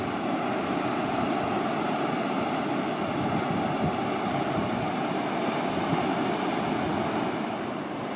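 Ocean surf at Balangan beach in Bali, with surfers out on the waves: a steady, even roar of breaking water and wind that stays at one level throughout, with no voices.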